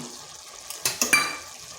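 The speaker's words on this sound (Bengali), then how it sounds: "এখানে দিয়ে দিচ্ছি কেটে রাখা আলুগুলো" Cut potatoes dropped into a pot of frying chicken masala, a few close, wet thumps and sizzling splashes in quick succession over a soft kitchen background.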